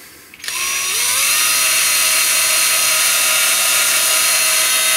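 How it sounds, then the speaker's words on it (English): A power drill runs at slow speed boring a shallow hole into the poly-finished body of a Fender Player Duo-Sonic electric guitar for a Telecaster bridge, a close, steady high whine that spins up and holds, with no talk. "I'm gonna go slow on the drill speed."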